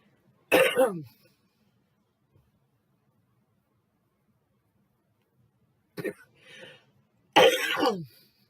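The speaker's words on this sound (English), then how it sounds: "Darn it, I'm starting to cough again." A person coughs sharply once, then after a long silence gives two more harsh coughs close together, loud and near.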